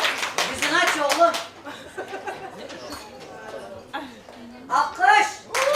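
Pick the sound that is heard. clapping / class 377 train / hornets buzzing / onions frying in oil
clapping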